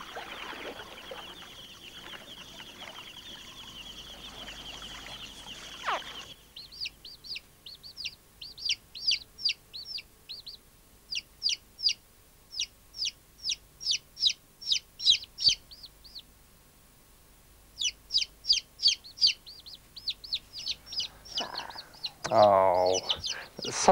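Young chicks only a few days old peep in rapid bursts of high, thin cheeps, close and clear, with pauses between runs and a louder stretch near the end.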